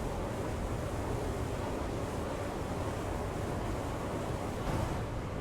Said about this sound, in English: And the waves are getting a bit choppy here for some reason.